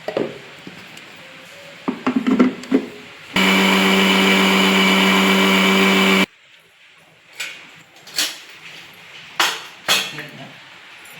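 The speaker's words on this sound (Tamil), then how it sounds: "இதெல்லாம் போட்டு லேசாக தண்ணி ஊற்றி நைஸ் பேஸ்ட்டாக அரைச்சி எடுத்துக்கணும்" A mixer grinder blends coconut with a little water into a smooth paste, a loud steady whirring burst lasting about three seconds, set between clinking of dishes and utensils in a kitchen.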